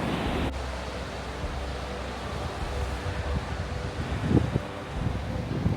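Atlantic Ocean surf and wind on a stormy, foggy coast near a marsh, a constant close roar of breaking waves and gusting air that rises slightly toward the end, with no voices.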